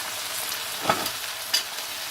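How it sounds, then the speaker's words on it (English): Okra frying in a pan with red chili powder gives a steady, close hiss of sizzling oil, with a couple of brief scraping stir clicks. "Look at this okra. It's nicely being cooked."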